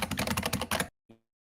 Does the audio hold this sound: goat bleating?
no